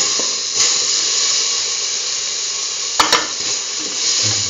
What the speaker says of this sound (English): put in the tomato pieces